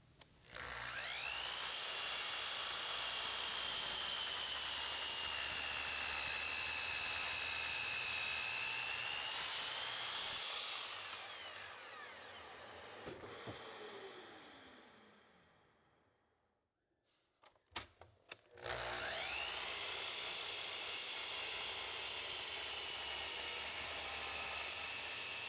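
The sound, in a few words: cutting away waste wood for white oak lap joint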